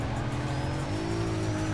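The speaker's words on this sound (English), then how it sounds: "I'm sitting here trying to slide around the turn." A race car in the Need for Speed ProStreet video game sliding around a turn, its engine droning loud and continuous as tires squeal through the skid, with a slowly shifting pitch across the whole stretch.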